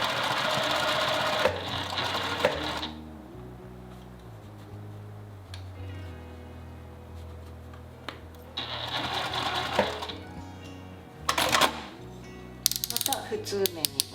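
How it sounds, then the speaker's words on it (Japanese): A sewing machine stitches the opening of a seam pocket in bursts of rapid mechanical whirring, close and loud, with quiet pauses and a person talking in between. "ここからちょっと1センチぐらいは重ねて縫い目を大きくしてポケット口を縫います"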